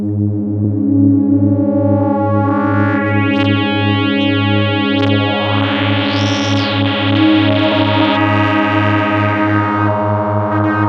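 A sustained, buzzy synthesizer tone with a pulsing low bass, its resonant filter sweeping up into a bright whistling peak and back down.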